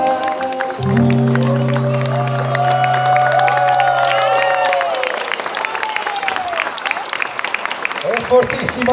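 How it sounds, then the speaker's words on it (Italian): Loud applause for Gucci Ladies at a live show, with crowd noise and sustained tonal sounds, likely a voice or music, layered over the clapping for most of the clip before it thins out. "E fortissimo l'applauso"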